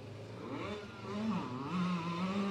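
A Beta 350 two-stroke motorcycle accelerates on a remote circuit, its engine revving up in rising and wavering pitch, loud and fairly close.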